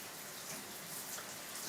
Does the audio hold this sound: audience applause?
no